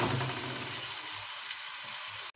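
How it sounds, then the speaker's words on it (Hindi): Sliced onions with garam masala frying in a pan, a steady soft sizzle that fades slightly toward the end, with no talking. "यहाँ हमारी प्याज जो है वो फ्राई हो चुकी है।"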